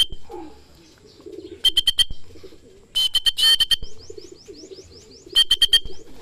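A racing pigeon coos in soft, low, intermittent bursts around a loft after a training flight, broken by sharp, bright chirps and clicks from nearby birds.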